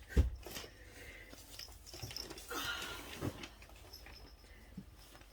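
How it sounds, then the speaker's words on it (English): A cat crunches dry food close by: soft, irregular crunching and munching over a faint background hiss. "If you hear crunching in the background, my cat decided to eat."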